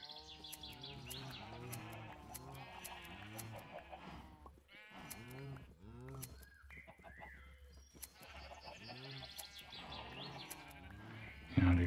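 Sheep bleating in Minecraft, a rapid series of nasal, wavering bleats from several animals close by, pausing briefly midway before another burst of bleats resumes.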